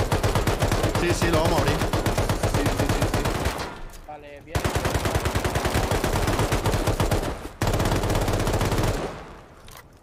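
Rapid bursts of automatic gunfire in the video game Rust, loud and close, in long strings broken by brief pauses, with a voice speaking briefly in a gap.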